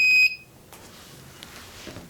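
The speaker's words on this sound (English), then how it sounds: "this ultrasonic sensor is sensing this object, and buzzer is beeping" A single short, piercing electronic beep from the buzzer on ultrasonic-sensor smart glasses for obstacle detection, sounding loud and close at the start, then giving way to faint handling noise.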